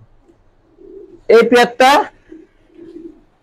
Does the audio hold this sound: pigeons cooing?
yes